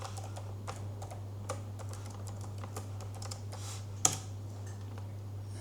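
Keys clatter on a computer keyboard while logging back into a PuTTY session: sparse, irregular keystrokes over a steady low electrical hum, with one sharper, louder click near the end.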